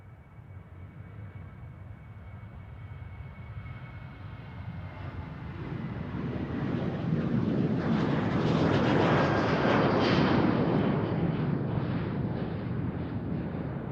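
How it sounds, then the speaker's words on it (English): A Boeing 787 Dreamliner approaching at Amsterdam Schiphol Airport, a broad jet roar that swells steadily from a distant rumble to a loud peak near the end, with no voices. "The Dreamliner comes our way, so that's good."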